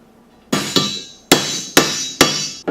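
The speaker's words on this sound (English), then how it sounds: "we can go ahead and drive our bushing in from the other side." Hammer driving a bushing into a Highlifters Max Clearance forward offset A-arm, five sharp metallic strikes at an uneven pace, each ringing briefly, close and loud with no talk.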